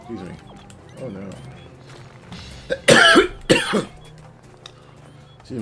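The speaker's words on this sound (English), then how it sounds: "I seem to be having a coughing fit" A coughing fit: two loud bursts of harsh, rapid coughing in the middle, with quieter throat noises and mumbling before and after.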